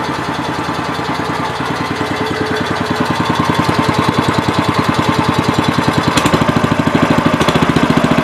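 A Kawasaki engine on a Gravely 5200 walk-behind tractor running steadily after recoil starting, a loud, close, even putter with rapid regular firing pulses that stays constant throughout.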